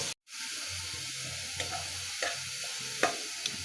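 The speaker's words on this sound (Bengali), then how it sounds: "এখন পেঁয়াজ দিয়ে দেবো পেঁয়াজটা আমি লাল লাল করে ভেজে নেব" Sliced onions sizzle in hot oil in a pan as the base for a hilsa fish curry, a steady close frying hiss marked by a few soft stirring scrapes and light clinks, with no voices.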